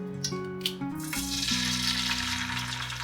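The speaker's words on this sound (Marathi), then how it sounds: "आता आपण अंडे तळून घेतोय।" A cracked egg fries in a hot pan, giving a steady sizzle that builds after a few soft knocks, with a low tonal hum running underneath and no one speaking.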